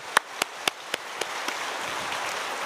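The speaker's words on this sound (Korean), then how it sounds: "뜨거운 박수로 환영하겠습니다" Several sharp, evenly spaced claps from a church congregation during a Sunday service ring out and quickly fade, tapering into a soft background hush.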